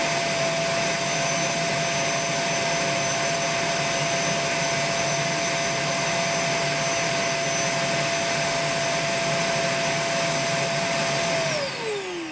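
A Milwaukee M18 Fuel 6-gallon cordless wet/dry vacuum runs steadily on its second speed setting with a loud, even whine, then spins down at the end.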